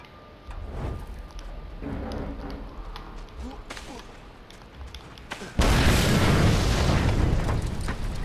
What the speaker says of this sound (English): It blew up my other gas tank.